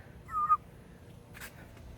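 A backyard bird gives a single short, clear honking call, fairly faint and alone, followed by brief rustling.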